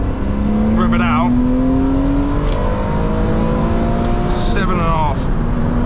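BMW Z3 M driven hard in the rain, engine revving and climbing through the gears with rising whine, loud and close from inside the car, with a voice talking over it.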